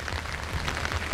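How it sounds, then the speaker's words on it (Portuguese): Rain falls steadily in a continuous soft patter and hiss, close and quiet, with no voices. "Já tá chovendo já há um certo tempo."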